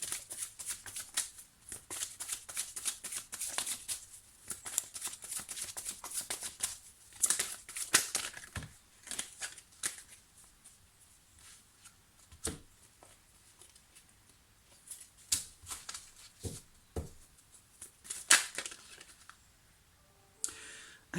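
Tarot cards being shuffled and drawn for a nine-card reading: close, quiet riffling, rustling and sharp card snaps arriving in irregular bursts with pauses between, and no voices.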